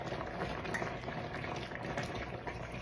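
Pasta simmers in one pan of liquid, a steady close bubbling and gurgling that holds evenly throughout with no talk.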